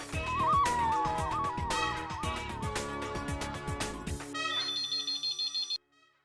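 A telephone rings as a call is placed: a loud, bright electronic ringtone melody plays, then shifts into a string of quick repeated ringing beeps that cut off suddenly.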